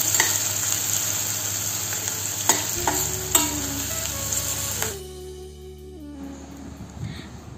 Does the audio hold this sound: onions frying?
yes